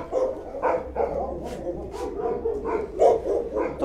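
Dog barks in a short series of about eight sharp yips and woofs at a shelter, some spaced and some close together, fairly near with a murmur of background noise.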